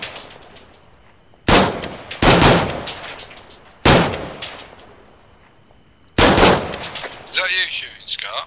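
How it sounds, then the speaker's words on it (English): Several loud, sharp bursts of automatic machine gun fire crack out at irregular intervals in a military operation setting, each followed by a decaying echo, with quieter background noise between them. "Is that you shooting, Scott?"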